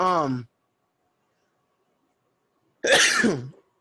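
A single sharp sneeze-like burst, a short voiced sound, then near silence before another loud explosive burst close to the microphone.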